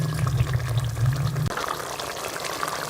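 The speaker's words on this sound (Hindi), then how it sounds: "अब हम ग्रेवी बनाने के लिए इसमें थोड़ा सा पानी शामिल कर लेंगे।" Water poured into a pan of fried potatoes for Kashmiri dum aloo gravy, a loud low gushing pour for about a second and a half, then a softer bubbling sizzle as the liquid settles.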